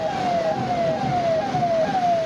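A fire engine siren sounds during a Republic Day parade, a loud, steady, repeating falling wail that cycles about five times in quick succession with no talk over it.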